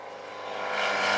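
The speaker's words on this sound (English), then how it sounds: "I just love the sound of airplanes" A Piper Super Cub light aircraft roars past on a high-speed pass at a STOL competition, its engine drone steady and loud, swelling as it nears.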